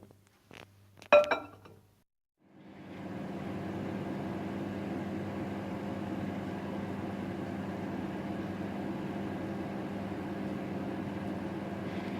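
A few sharp clicks and a beep, then a steady low hum of a microwave oven heating butter and cooking chocolate in a mug, running continuously and evenly, no talking.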